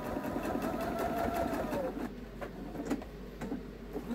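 Sewing machine stitching a quilt while it guides the fabric, not free-motion, with stars along the bottom; a steady, fairly loud mechanical whir runs throughout with a few soft ticks.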